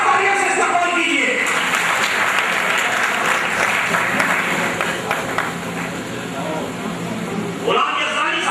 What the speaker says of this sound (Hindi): जोरदार तालियों से इस्तेमाल कीजिए।